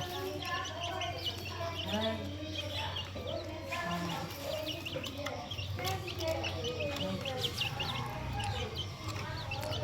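A small flock of native hens and roosters cluck and chatter close by, with overlapping calls running continuously throughout.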